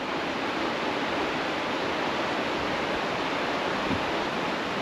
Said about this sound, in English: I can hear the roaring river.